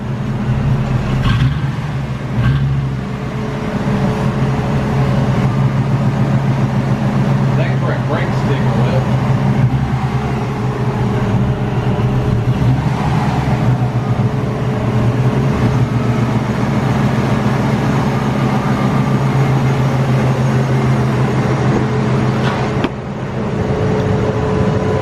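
Supercharged Ford Crown Victoria with a 5-speed manual swap, its engine rumbling steadily at close range the whole time while people talk over it.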